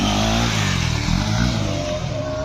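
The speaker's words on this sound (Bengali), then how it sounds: "এখন রনি ফেল দেখ, হ্যাঁ ও তো হুইলি মারতে গেল" A Bajaj RS200 motorcycle engine roars loudly and steadily during a wheelie attempt, a dense continuous rev with slight surges, close by and heard alone.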